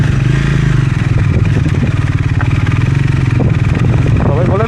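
A motorcycle rides a rough off-road trail on a trip from Nepal toward Sandakpur, its engine loud and close with a steady rumbling throb and rattles from the bumps, while someone talks over it.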